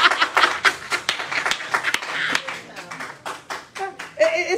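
A church congregation claps during a sermon, a scattered run of sharp hand claps in uneven rhythm with voices and chuckles mixed in nearby.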